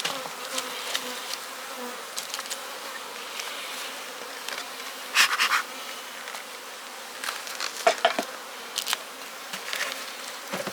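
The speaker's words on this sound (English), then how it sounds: "Just a little small pitiful ball of bees." Honey bee colonies in a beehive yard hum with a steady buzzing that rises and falls as bees fly near and away, with a few louder passes up close.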